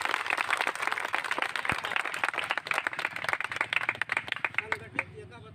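A village gathering in Tulsiyapur, Siddharthnagar, breaks into a burst of group clapping at a national festival event. The dense, rapid claps carry on for several seconds under a speaking voice and taper toward the end.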